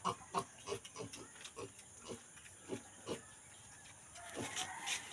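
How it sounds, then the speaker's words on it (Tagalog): A small pig grunts and oinks in a series of short, quiet snorts at an uneven rhythm, close by against a faint background hiss. "may ari ko di baboy nga gamay"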